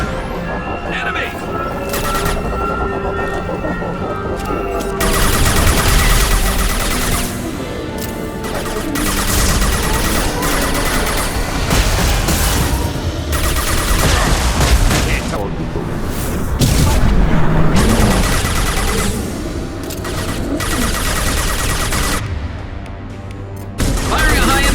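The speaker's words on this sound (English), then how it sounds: "Firing a high-impact shot!" Gunfire and heavy booming blasts from a Mass Effect 2 battle during the suicide mission finale, loud and dense with crashes, layered under game music and voices for the whole stretch.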